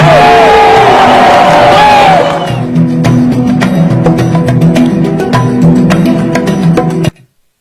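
A crowd at a Haitian rally cheers and yells for activists arrested in Côte d'Ivoire, then breaks into scattered clapping that continues for several seconds before cutting off abruptly.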